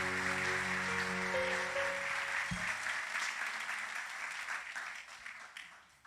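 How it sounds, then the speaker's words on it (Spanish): Church congregation applauding at the close of a sermon, a dense sustained wash of clapping with organ or keyboard chords beneath that stop partway, the clapping slowly thinning and fading toward the end. "Dale un fuerte, fuerte aplauso al Señor."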